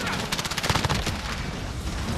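SMG gunfire in the Warzone video game, loud and dense, coming in rapid bursts over busy game noise. Someone talks over it.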